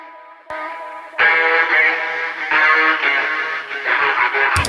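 A vocal line runs through an echo effect with Little AlterBoy pitch shifting it all the way down, giving dense, smeared, repeating tails that build and overlap over several seconds, close and moderately loud.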